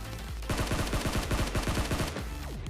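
Rapid bursts of automatic gunfire from PUBG Mobile, loud and close, firing in quick repeated volleys for most of the stretch, then stopping near the end.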